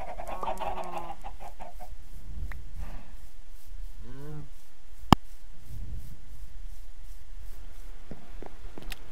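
Chickens clucking in a Minecraft-style video game, a few short fowl calls and a rising warble standing alone over a quiet background, with a sharp click partway through.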